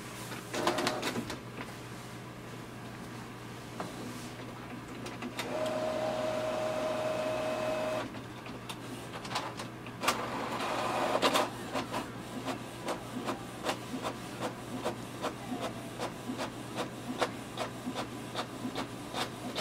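A Canon Pixma TS6351 wireless printer runs through a print job, with a steady mechanical whir, a brief motor whine, and then a long run of rapid, regular clicks and ticks, heard alone and up close.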